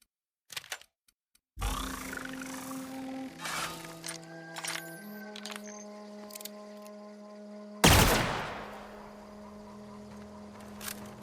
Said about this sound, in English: 5 shots and then no more ammo